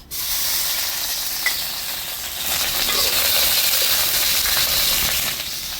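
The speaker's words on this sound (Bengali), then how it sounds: "কাঁচামরিচ আগে একটু ভাজা দিই" Green chilies frying in hot oil in a wok, a close, steady sizzle and crackle that swells slightly partway through, with no talking.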